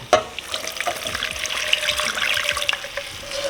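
Water is poured from a glass into a pan of melted butter, giving a steady trickling splash with a faint sizzle, close and continuous with no talking.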